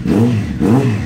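A Honda Fireblade motorcycle engine revs in two quick surges, each rising and falling in pitch, loud and close.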